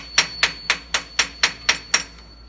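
Eight sharp metallic strikes from a small hammer driving an aluminium bar tool into a hydraulic cylinder during a rebuild, evenly spaced at a steady rhythm, close and loud with no talk.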